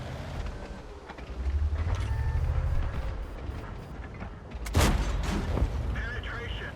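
Tank cannon shots in World of Tanks gameplay against an IS-2, with a sharp loud blast near the end standing out over a rumbling engine-like bed of game noise.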